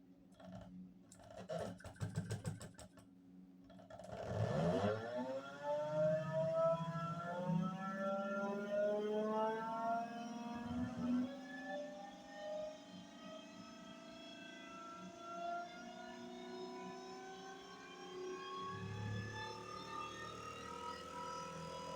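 A DPS1 electric motor with rewired coils, powered from a 34 V bench supply, clicks, then spins up into a rising tonal whine that holds steady with layered harmonics for a long stretch.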